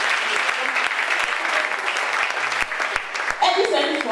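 A church congregation applauds and cheers, a dense, steady wash of clapping hands with scattered sharp claps and voices rising through it, filling the room throughout.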